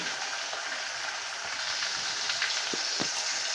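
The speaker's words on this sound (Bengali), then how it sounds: "টমেটো হালকা করে ভেজে নেব দিয়ে দেবো কিছুটা পরিমাণ লবণ" Chopped tomatoes fry with salt in a pan, giving a steady, soft sizzle with a few faint clinks of a utensil near the end.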